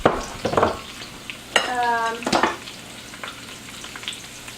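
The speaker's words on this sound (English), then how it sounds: "put some garlic, roughly chopped garlic, and some onion in the pan." Roughly chopped garlic and onion hit hot olive oil in a wok, giving a soft sizzle with a few stirring scrapes and clinks of a utensil against the pan, fading to a quiet fry.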